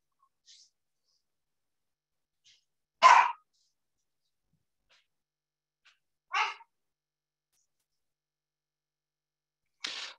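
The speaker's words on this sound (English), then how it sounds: "got a dog barking" A dog gives three short, sharp barks spaced a few seconds apart, somewhat distant, with near silence between them.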